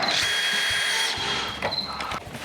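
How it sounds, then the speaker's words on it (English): A power drill whirs in short bursts, driving corner screws into the bottom of a pop-up camper body panel, the motor revving up and winding down close by. "Now install our corner screws on the bottom"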